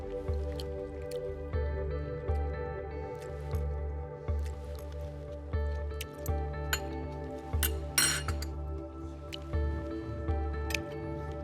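A dish of Asian greens with bok choy, chilli and bean shoots is stirred, giving moist squishing and light clinks of utensil against dish over a steady low hum, with no talk.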